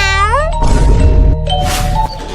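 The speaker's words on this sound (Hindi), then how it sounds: "अरे बेटा बिल्ली है, डरो मत।" A cat meows loudly and close by, a drawn-out rising and falling call followed by shorter cries, with some rustling underneath.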